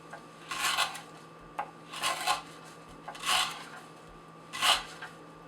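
Benchmade 710 knife with a D2 steel blade slicing through 3/8 inch sisal rope, four separate raspy fibrous cuts spaced about a second apart, close and fairly quiet with no talking.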